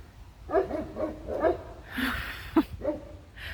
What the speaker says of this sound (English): There's really nothing to bark at right now.